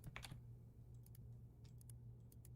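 Quick bursts of keyboard typing from the game Desktop Explorer, faint irregular clicks over a constant low hum, no voices.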